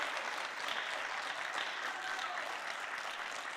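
Small audience at the Miss Indian 2021 pageant show claps in a sustained, even wash of applause, fairly soft and distant, with a faint cheer or whistle briefly standing out.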